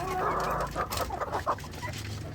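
Laying hens crowded in a pen cluck and squawk close by, several short overlapping calls in quick succession.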